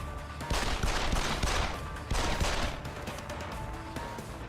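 Rapid bursts of gunfire in Deus Ex: Human Revolution, loud and close, coming in two or three dense volleys with brief gaps between them and no talking over it.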